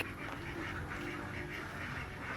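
A flock of ducks quacks continuously in overlapping, busy chatter, fairly close and steady throughout.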